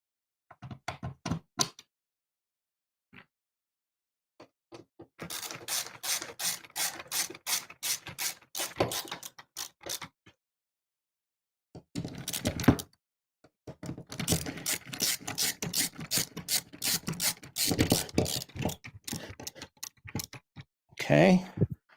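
Screws being driven by hand into the sides of an Arcade1Up cabinet during assembly, heard as bursts of close ratcheting clicks and knocks separated by pauses.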